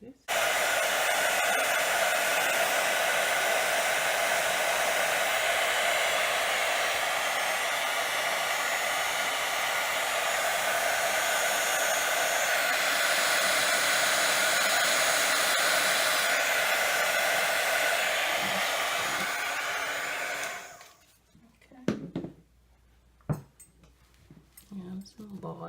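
An embossing heat tool blows hot air over a stamped card in a paper-crafting setup, a loud, even whirring blast lasting around twenty seconds before it switches off, followed by a few brief clicks and knocks.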